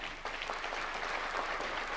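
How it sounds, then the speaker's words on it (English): A crowd at a National Defence University graduation ceremony in Kenya claps steadily, a dense, even patter of applause with no voices. "A round of applause, please."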